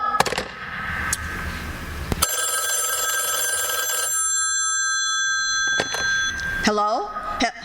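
An old telephone bell rings loudly in a radio drama, a long continuous metallic ring with sharp clicks at its start and end, followed by a brief tonal warble.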